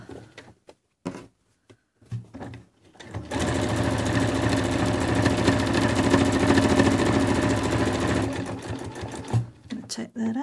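A domestic sewing machine stitches a seam on a patchwork cushion cover, running steadily and close for about five seconds after a few short starts, with someone talking before and after.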